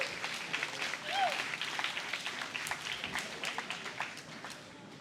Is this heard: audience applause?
yes